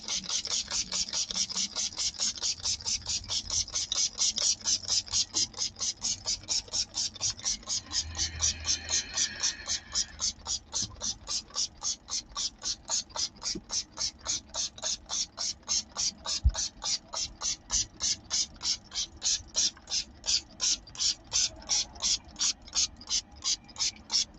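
A handheld spray bottle squirts water during a crafting session, its trigger pumped steadily over and over in a fast, even rhythm of hissing bursts, close up and alone for the whole stretch.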